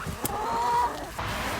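Backyard hens clucking beside crates of sunchokes, a short burst of soft fowl calls and scratching, moderately close, with a brief sharp knock early on and no talk over it.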